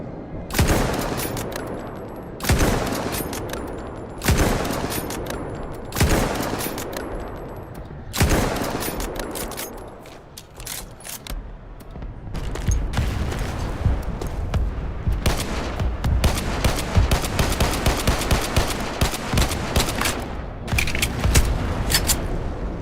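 Bursts of standard-issue weapon gunfire in the Roblox war game Vanguard, first several separate loud volleys with short gaps between them, then a long stretch of dense, continuous rapid firing.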